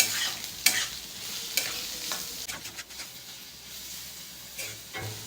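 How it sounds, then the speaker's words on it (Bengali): Chopped onions drop into hot oil and fry with a bright close sizzle, while repeated stirring scrapes and clatters in uneven bursts across the sizzle. "এই যে এই তেলের মধ্যে এবার দিয়ে দেব কুচিয়ে রাখা পেঁয়াজগুলো। একটু নাড়াচাড়া করে নেব।"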